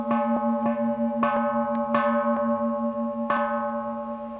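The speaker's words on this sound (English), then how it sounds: "simply ringing bells here in a Korean context" Clear metallic bell strikes from a Korean Buddhist ritual ring out repeatedly at an uneven pace, each tone sustaining and overlapping into a steady shimmering hum, with no voices.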